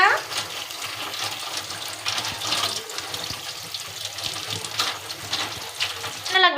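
Tap water runs steadily into a kitchen sink while something is being washed, a close, continuous splashing stream with a brief spray at the end.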